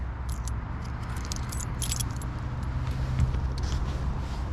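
Original keys for a 1990s pickup truck jangle in bright, irregular clusters of metallic clinks over a steady low outdoor rumble, close by and with no talk.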